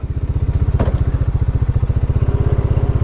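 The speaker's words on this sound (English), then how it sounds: "what I'll do is I'll warm up the bike a little more" A Bajaj Dominar 400 motorcycle engine idles while warming up, its steady single-cylinder thump pulsing evenly and close up, with a brief sharp click near the start.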